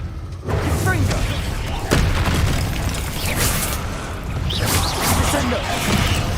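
A Confringo fire spell in Hogwarts Legacy going off as a sudden booming blast, followed by rolling crackling bursts and further impacts amid continuous game noise.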